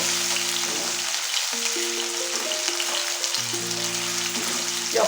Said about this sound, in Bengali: একটু অল্প অল্প করে এগুলোকে একটু ভেজে নেব